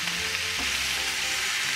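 Chicken curry ingredients fry together in a pan with a steady, broad sizzle that holds at an even level throughout, close and alone without talk.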